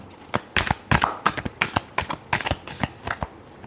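Tarot cards are shuffled up close in a quick run of crisp riffling bursts and soft slaps, about a dozen strokes in an uneven rhythm, with no one talking.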